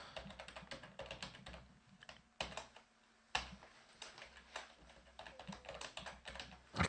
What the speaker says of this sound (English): let's go ahead and type in